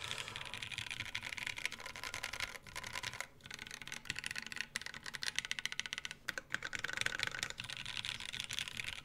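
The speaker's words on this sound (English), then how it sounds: "Once I'm done with the typing spam." Rapid, continuous key clacks from a Monokei KFE CE mechanical keyboard built without foam, typed fast and close up, with the dense clatter pausing briefly before picking up again.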